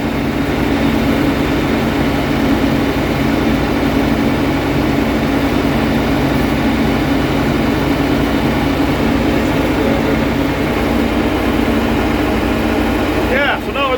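A John Deere 2140 tractor engine runs steadily with a constant low rumble throughout, loud and close, with someone talking over it.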